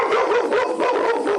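Dogs barking and yelping in a dense, continuous, loud burst that is over almost at once.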